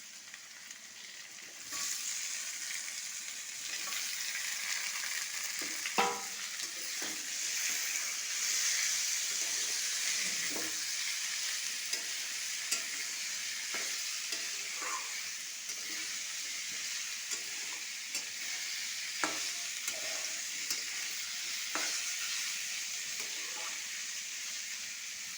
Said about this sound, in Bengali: সেগুলোকে একটু ভেজে নেব।